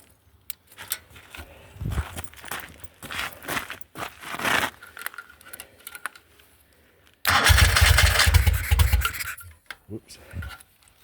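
Moto Guzzi Eldorado motorcycle engine fitted with Brooklands silencers turns over and fires in several short bursts, then catches and runs loud for a couple of seconds before dropping back to quieter sputtering revs nearby.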